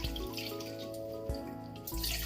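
Chicken eggs rinsed under a running kitchen tap, with a steady close splash of water over a low hum and a few brief shifts as the eggs are moved.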